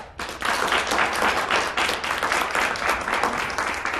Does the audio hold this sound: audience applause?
yes